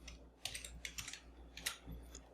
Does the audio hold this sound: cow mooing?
no